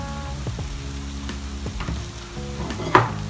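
Chopped garlic and ginger sizzling in vegetable oil for a katsu curry, a steady close crackle with intermittent stirring scrapes and a sharp utensil knock near the end, no voices.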